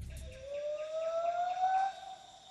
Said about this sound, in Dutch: Het is namelijk een soort aap, het is een gibbon.